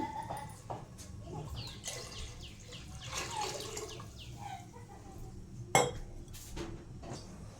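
Water runs and splashes into a pot of rice for pulao amid clinks of metal cookware, with a sharp clank partway through; quiet kitchen background.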